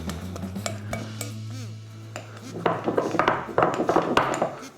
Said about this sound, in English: Give it a good old mixing